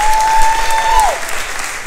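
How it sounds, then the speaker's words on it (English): Applause rises from guests at a cocktail benefit as an alumnus is welcomed, a steady wash of clapping heard alongside a sustained tone that fades out partway through. "Please join me in a round of applause to welcome alumni Michael Amoah."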